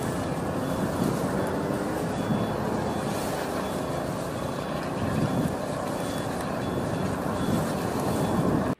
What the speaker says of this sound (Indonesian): lihat ada truk molen besar